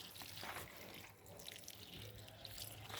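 Water is poured over coconut coir in a plant pot for sowing coriander, a soft continuous splashing and trickling at close range, with no talking.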